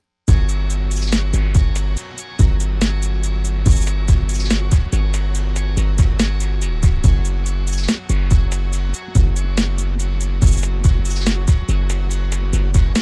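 Heavy 808 bass pattern with pitch slides programmed in FL Studio for a dark alt-rock beat, booming low notes under a steady fast hi-hat and drum groove, with brief dropouts, loud and without voices.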